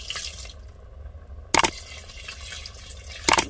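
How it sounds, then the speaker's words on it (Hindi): Water poured from above over soaked raw rice in a cooking pot, two short splashing bursts separated by quieter trickling and faint dripping, close and fairly loud. "इसके ऊपर से थोड़ा सा डालूंगी पानी"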